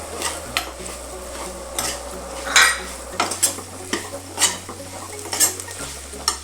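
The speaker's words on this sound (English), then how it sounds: "So now we will add these fried bitter gourds into this. Mix it nicely." A spoon stirs fried bitter gourd pieces into a karela pickle masala in a pan, with repeated scraping and clinking strokes and light sizzling underneath, close and moderately loud.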